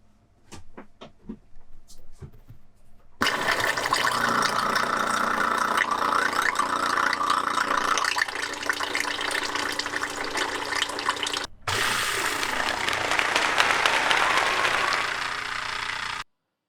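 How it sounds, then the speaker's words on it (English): A newly installed water pump on a sailboat runs steadily, with water gushing from the outlet in a loud continuous rush that breaks off briefly and then resumes, preceded by a few soft knocks. "We should see from this outlet that water should come out when we turn on the pump."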